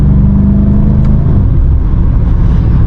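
A BMW M5 Competition's engine hums and rumbles steadily from inside the car on a late-night drive, a loud, constant low drone with no voices.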